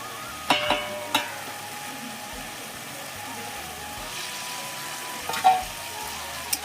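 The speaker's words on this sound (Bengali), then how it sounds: "আলুটা দিই, সাথে সাথে কষা হবে তো, আলুর সাথে সাথে কষা হবে।" Potatoes sautéed and stirred in a pan, a soft steady sizzle with a few distinct scraping knocks from the spoon early and late, close and moderately quiet, without talking.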